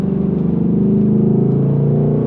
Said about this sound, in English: do you get V8 sounds like this to get through red lights?